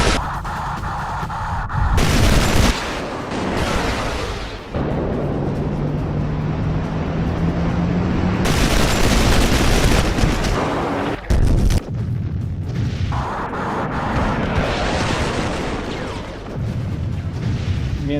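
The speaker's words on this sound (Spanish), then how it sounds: "sobre las columnas de sus explosiones, de la explosión de sus bombas" Bombs bursting in an air attack during the 1982 Malvinas (Falklands) war: a string of loud, heavy booming blasts with rumbling, roaring stretches between them, close and dense throughout.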